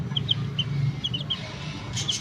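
Baby chicks peep in short, high, thin chirps scattered in quick pairs and singles, fairly close, over a low steady background hum with no talking.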